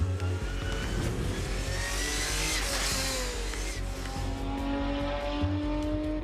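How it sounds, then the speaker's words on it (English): A championship-winning GT4 race car drives at speed, its engine roaring loudly and continuously close up, with tyre noise and shifts in engine pitch throughout. "they will test drive a championship-winning GT4 race car"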